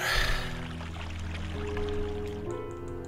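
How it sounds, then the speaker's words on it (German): Water being let out in the video game Evoland 2, a continuous gushing pour over steady game music tones, close and even throughout. "Jetzt haben wir Wasser gelassen."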